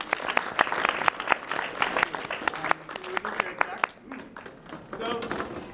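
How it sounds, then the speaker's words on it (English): An audience at a horror-themed panel event claps in a big round of applause, sharp individual claps standing out over steady crowd noise, with voices audible throughout. "can we get a big round of applause?"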